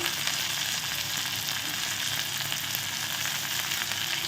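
Steady, loud sizzling of food with curry leaves frying in a pan, a continuous crackling hiss with faint scraping as it is stirred.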